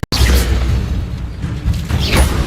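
Confringo spell blast in the Hogwarts Legacy video game: a sharp click opens into a loud, rushing boom with whooshing tails that swell and fade, then surge again near the end.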